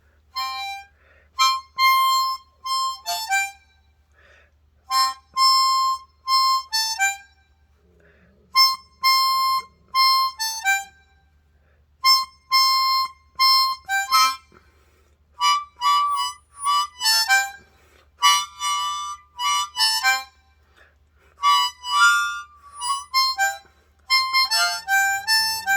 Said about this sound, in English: You hear that squeaking? That's that 8. That's that old 8 draw there.